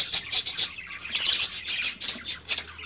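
Several small birds chirp and tweet in quick, busy bursts close by, a lively overlapping chatter.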